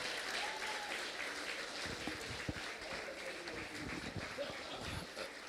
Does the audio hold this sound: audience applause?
yes